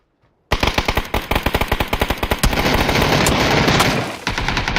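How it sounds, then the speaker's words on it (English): Rapid gunfire in a first-person shooter game featuring the K98 rifle: a fast, loud string of sharp shots follows a brief silence, then the shots blur into a sustained dense roar before cutting off. "hit a nice K98 headshot on him"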